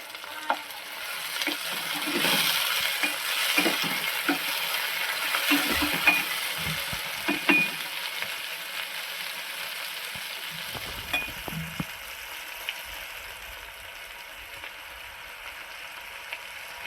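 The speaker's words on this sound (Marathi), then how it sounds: "टोमॅटोही चांगला परतून द्यायचा आहे." Chopped tomato sautéed with onion in a pan for masoor dal, a continuous soft sizzle with occasional spatula scrapes and stirs, close and steady with no talking.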